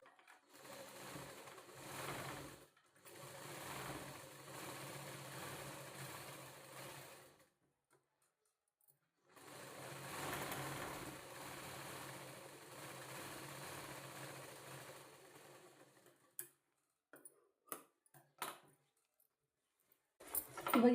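A sewing machine stitches fabric in two sustained runs of rapid, even whirring, each several seconds long, separated by a pause, then ends with a few short bursts and clicks, fairly quiet and close.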